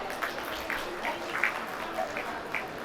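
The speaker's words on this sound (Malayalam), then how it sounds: "ഇവർക്ക് വേണ്ടി നല്ലൊരു കയ്യടി നമുക്ക് കൊടുക്കാം" Wedding guests applaud the couple at a reception, a soft patter of scattered hand claps running steadily at moderate distance, with a voice speaking over it.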